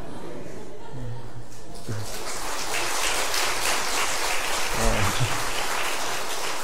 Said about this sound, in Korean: 이 박수 소리 보니까 많이 주실 모양이야.